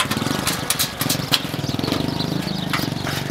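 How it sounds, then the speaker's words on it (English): A small motor-rickshaw engine runs on its own nearby in India, a steady, throbbing putter with quick regular pulses and no voices over it. "this is the engine for the rickshaw, which is looks very small, but it has power"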